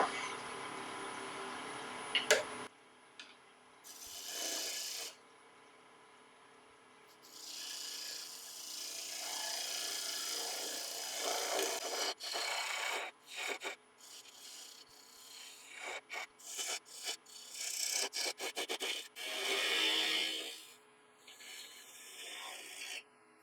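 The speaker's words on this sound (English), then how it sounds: "I'm just going to switch over to a half-inch spindle gouge" A half-inch spindle gouge cuts a large wooden ladle on a lathe held in a scrap-wood jam chuck, giving repeated rasping, scraping bursts of varying length separated by short pauses, close and moderately loud, with no talking.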